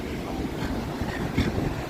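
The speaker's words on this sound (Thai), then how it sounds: "นั่งรับลม" Cold wind blows steadily off the sea near a seaside home, a constant broadband rush buffeting the microphone with a brief stronger gust, and nobody speaks.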